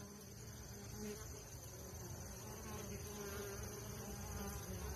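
Honeybees buzzing around an open hive during a calm hive check and feeding, a dense continuous hum of many wings, faint and fairly close, with no talking.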